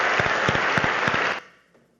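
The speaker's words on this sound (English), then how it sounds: "So I'd like to thank Mats and give him an applause." Conference audience applause for Mats, a burst of dense clapping with a few sharp individual claps that cuts off abruptly after about a second and a half, leaving faint room tone.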